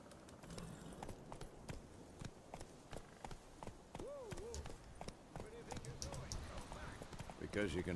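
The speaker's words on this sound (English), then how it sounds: "Luckily, Geralt can always count on his horse, Roach, to help him in his travels." Horse hooves clip-clop steadily as Geralt's horse Roach moves in The Witcher 3, a quick rhythmic series of faint hoofbeats under a narrating voice and game sounds.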